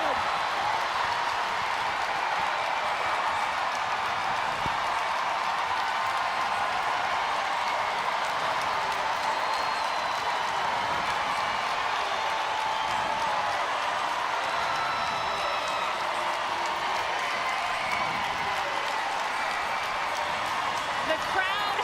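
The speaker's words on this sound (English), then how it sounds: "The crowd has erupted here after Kaylee Fracken scores to make it 4-3" A hockey arena crowd roars and applauds after a late go-ahead goal in a Montreal vs. Boston PWHL game, a dense, steady wash of cheering that holds for the whole stretch under a commentator's voice.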